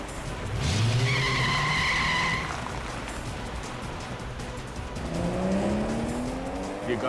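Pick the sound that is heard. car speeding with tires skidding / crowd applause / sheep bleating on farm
car speeding with tires skidding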